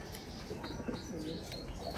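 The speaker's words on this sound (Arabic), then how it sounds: "كما كتشوفوا صورت هادو هما الحميمات" Racing pigeons in a loft giving soft low coos and faint chirps, close by, against a steady background hiss.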